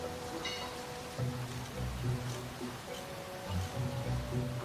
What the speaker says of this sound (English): the wind blew and the rains pounded down